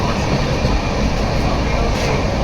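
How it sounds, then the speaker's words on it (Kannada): A Mysore to Shirdi Express train rumbles past close by, a loud continuous roar of wheels and carriages on the rails. "ಟ್ರೈನ್"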